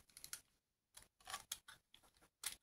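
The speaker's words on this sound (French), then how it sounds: "je suis obligée de venir avec mes petits ciseaux pour découper à sa place" Small scissors snip through envelope paper in a series of close, crisp cuts, with short bursts separated by brief pauses and no talking.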